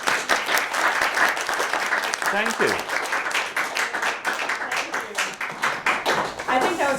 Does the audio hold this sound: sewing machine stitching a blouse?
no